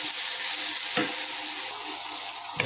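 Cauliflower and vegetables sautéing in a pan for cauliflower fried rice, a loud continuous sizzle with two brief spatula scrapes, close by and alone.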